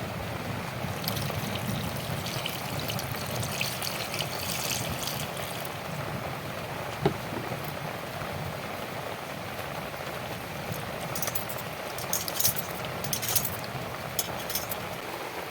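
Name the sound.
washing cut potatoes in water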